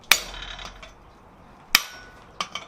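Three sharp metallic hammer blows on a slitting chisel cutting into steel stock held in a vise, spaced apart and ringing briefly, close and loud with no talking.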